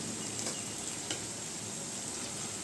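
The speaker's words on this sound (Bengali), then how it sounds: "একদম তেল বেরোনো পর্যন্ত খুবই সুন্দর করে কষিয়ে নিতে হবে।" Spice paste fries in hot oil for doi katla, a Bengali catla fish curry in yogurt, giving a steady close sizzle with faint scraping clicks from stirring now and then and no voices.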